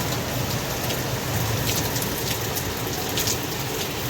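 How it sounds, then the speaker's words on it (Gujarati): Steady, dense rain pours down in Sanand during a storm, a continuous close wash of drops hitting surfaces with no clear thunderclap and no talking. "વીજળી ને વરસાદ."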